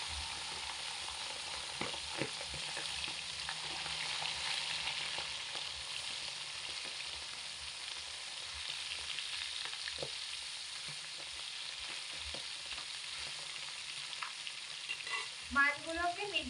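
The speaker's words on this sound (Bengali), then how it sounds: "গরম তেলের মধ্যে মাছের পিসগুলো দিয়ে ভেজে নেব।" Tilapia fish pieces fry in hot oil in a wok, a constant soft crackling sizzle with occasional light taps and stirring sounds, fairly quiet and steady, with no speech.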